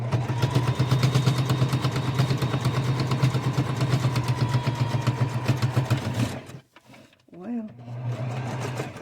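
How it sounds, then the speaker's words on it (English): A sewing machine runs steadily, stitching fabric for a flat iron cover with a pouch; the motor hums continuously, stops briefly while a voice speaks a word, then starts again. "I'm going to give it a little sew after I turn my machine on"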